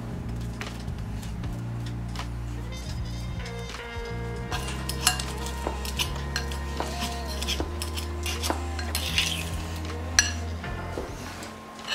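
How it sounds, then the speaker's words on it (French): A ripe banana is mashed in a bowl with a fork or utensil, giving repeated clinks and scrapes of metal against the dish, close and fairly loud, with no talking. "Dans un bol, je vais écraser notre banane."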